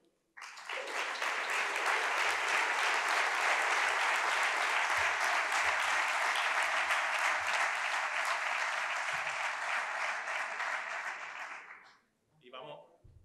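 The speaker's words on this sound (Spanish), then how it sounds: "los vamos a recibir con un aplauso" Sustained audience applause at an anniversary ceremony as honorees take the stage, a loud, dense and steady wash of clapping from a large crowd lasting about eleven seconds before stopping abruptly.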